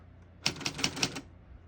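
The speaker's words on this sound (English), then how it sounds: "You just flip this back fork that holds it, and it'll start pulling to that side counterclockwise." Crisp mechanical clicks, four or five in quick succession, come from flipping the ribbon reverse fork on a 1970s Brother Young Elite portable typewriter; close and alone in a quiet room.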